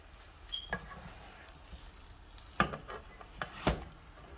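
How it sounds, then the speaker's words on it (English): Spoon stirring bulgur wheat with spinach and mushrooms in a pan, giving a few scattered scrapes and soft clacks over a faint sizzle, close and fairly quiet. "So as you're stirring it in"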